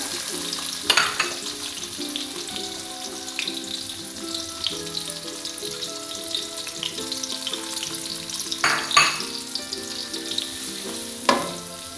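Shallots and garlic fry in hot oil reused from frying fish, giving a continuous close sizzle with occasional louder bursts as they are stirred.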